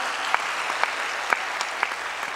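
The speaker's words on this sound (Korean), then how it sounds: "잘했으면 한번 큰 박수 한번 돌려보세요" Scattered clapping from a church congregation applauding the choir during a service, steady and moderately loud, with a few sharper claps standing out, no voices over it.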